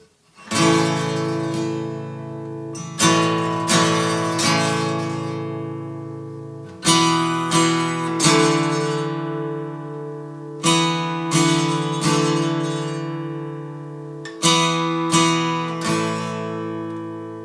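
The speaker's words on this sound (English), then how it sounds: "that's kind of how you could pull off that lead with just an acoustic guitar" An acoustic guitar plays a short melodic lead riff in repeated phrases, notes picked and ringing out between pauses, clear and close with no voices.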